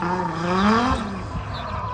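A drift car with an RB engine revs past at a drift day at Hallett, a rising then falling engine note that swells briefly and fades within two seconds.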